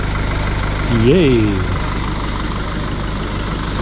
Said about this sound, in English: That's a car engine running.